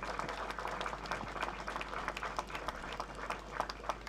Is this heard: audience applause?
yes